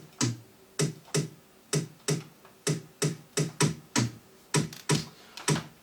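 Percussion layers of differing tones from a dance track, crisp tom-like hits tapped out in a steady syncopated pattern, about twenty strikes with quick decays, up front and alone.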